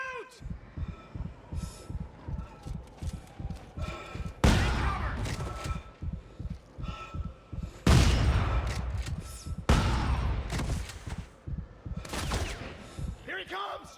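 Video-game gunfire in Dead Space 3 rattles in rapid repeated bursts, with several heavy booming blasts standing out loud and close, while shouting voices cut in among the shots.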